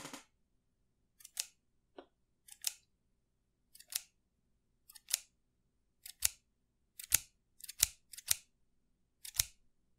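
Scissors snipped repeatedly at close range for a Minecraft sound recording, about a dozen sharp, crisp cuts spaced irregularly through otherwise quiet air.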